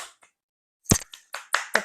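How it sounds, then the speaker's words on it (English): Hand clapping during an adaptive dance fitness class, a couple of soft claps followed after a pause by a short burst of sharp, close claps from one or a few people. "Give yourself a clap."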